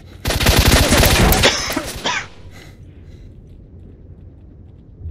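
A burst of rapid machine gun fire in the S.T.A.L.K.E.R.: Shadow of Chornobyl video game rattles loudly and close for about two seconds, then cuts off into quiet background.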